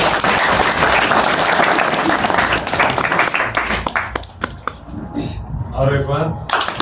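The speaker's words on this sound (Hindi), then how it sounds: "ताली बजा देंगे।" Wedding guests applaud inside a church, loud dense clapping that thins out and breaks into a few scattered claps before fading, with voices talking near the end.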